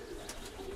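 Pigeons of the Melitopol, Sumy and old Nikolaev breeds give a soft, low coo in a dovecote, a faint rolling call running under steady background noise.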